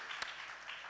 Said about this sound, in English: big round of applause for Varun